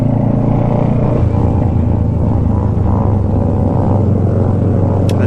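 A Ducati motorcycle passes on a city street, its engine a steady low rumble that holds close and loud for several seconds amid traffic noise.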